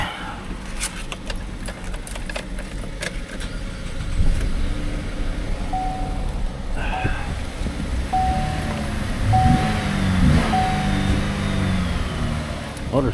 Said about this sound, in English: Motor sounds okay.